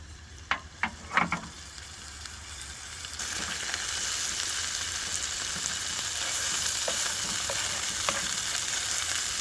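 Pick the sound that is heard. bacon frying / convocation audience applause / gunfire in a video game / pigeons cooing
bacon frying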